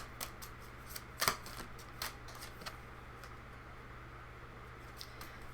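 Cards from the Learning to Witch oracle deck are shuffled by hand, a quiet series of soft riffles and papery flicks with one louder burst partway through.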